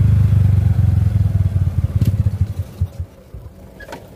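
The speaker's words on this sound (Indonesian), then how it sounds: "Nah, motornya mati, teman-teman." A Honda Supra motorcycle engine that cuts out when the throttle is released sputters loudly in uneven, slowing pulses, then falters and dies into near silence after about three seconds.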